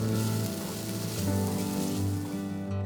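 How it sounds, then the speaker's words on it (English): Continuous close-up sizzling of sauce being stir-fried and thickened in a pan, a steady crackling hiss with a low hum underneath. "the stir-frying continues for another 2 minutes to thicken the sauce"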